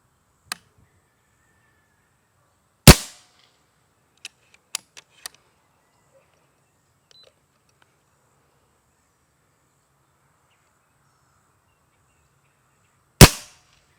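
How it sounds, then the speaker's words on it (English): A Diana Stormrider .22 air rifle with a baffled muzzle brake fires two sharp, loud snaps about ten seconds apart, with a few faint clicks between them in otherwise quiet surroundings. "Diana tells us that the Stormrider has baffles inside of its muzzle brake, but it's still got a pretty good snap to it"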